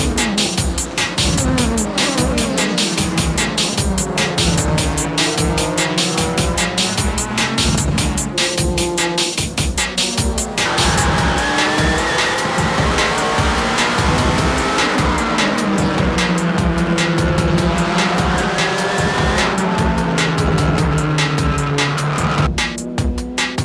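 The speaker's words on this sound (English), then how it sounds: "One little slip and Kageyama have let 3 Supras by in one shot" Toyota Supra GT race cars in a 2004 JGTC race pass in quick succession on track, engines screaming and revving with rapid pulsing gear changes, loud and close, with tire squeal throughout.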